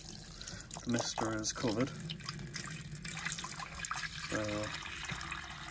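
Water tipped into an animated Gemmy Halloween witch cauldron during restoration, giving soft pouring and dripping sounds under a man's close, quiet talking.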